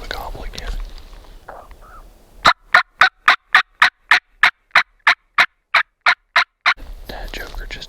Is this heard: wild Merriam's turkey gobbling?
yes